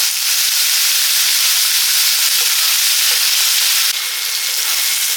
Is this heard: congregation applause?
no